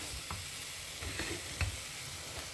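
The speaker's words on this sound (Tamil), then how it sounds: "கொஞ்சம் நேரம் இது நல்லா வதங்கட்டும்" Tomatoes sautéing in a pan for Andhra-style palak dal, a soft continuous sizzle with a few faint stirring knocks, fairly quiet and close, without speech.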